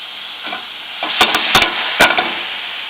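Butter hits a hot pan with lemon while making piccata, giving a steady close hiss of sizzling with a few sharp scraping clicks from stirring.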